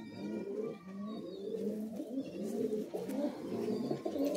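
Madrasi high-flying pigeons in a Kolkata loft coo steadily, overlapping throaty calls repeating in a continuous chorus close by, with faint chirps above.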